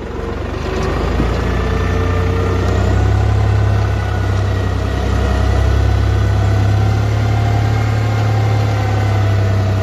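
A New Holland T480 S tractor engine drones steadily and loudly while climbing uphill, a continuous low labouring hum with no speech.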